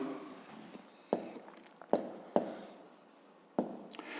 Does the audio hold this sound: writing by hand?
yes